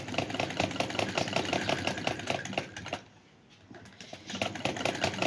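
A sewing machine stitches fabric in a fast, even mechanical rhythm close up, pausing for about a second before resuming.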